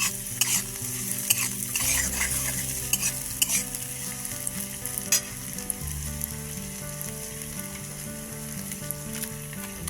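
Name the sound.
cauliflower lightly frying in a pan for cauliflower chili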